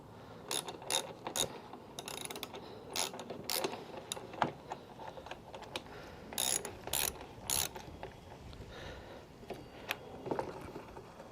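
A pulley on a 2003 Toro Personal Pace Model 20017 walk-behind mower spins after a new traction control cable is fitted, giving close, irregular mechanical clicks and ratcheting ticks over a steady low whir.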